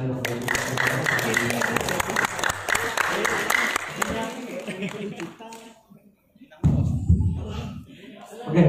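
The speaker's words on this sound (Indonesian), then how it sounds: "Boleh beri tepuk tangan ke saya Bapak Ibu." A crowd claps and cheers loudly for several seconds at a journalist awards and Honda GTR150 motorcycle launch event, the applause fading out before voices take over after a brief lull.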